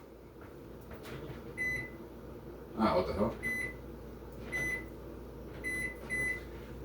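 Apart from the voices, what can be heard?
timer beeping at start of warm-up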